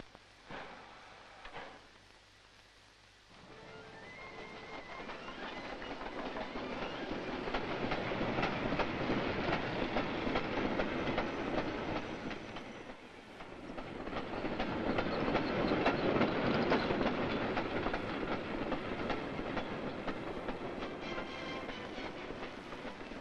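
An electric commuter train running on rails toward Warsaw in the 1950s, a continuous rumbling roar with rhythmic clickety-clack of wheels over track joints, swelling and easing slightly over about twenty seconds, without voices.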